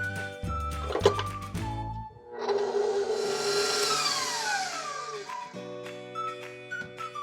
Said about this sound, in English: And we're just going to mix this until it's smooth.